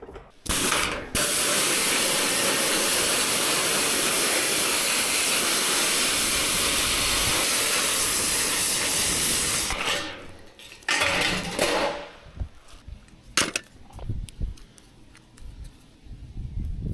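Water sprays hard and continuously to rinse off a roof repair where a fallen tree broke through, a loud hissing rush that stops abruptly, followed by scattered knocks, clatter and drips.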